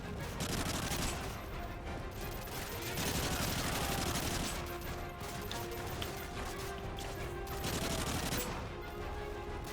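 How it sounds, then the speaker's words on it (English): Dense, continuous gunfire in Call of Duty Modern Warfare 3 (2011 campaign) crackles in rapid bursts with crashing impacts throughout, loud and sustained. "Who is shooting me now?"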